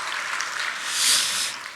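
A church congregation at a Korean faith-training graduation ceremony applauds together, a steady, bright wash of many hands clapping that rises briefly toward the middle before easing off.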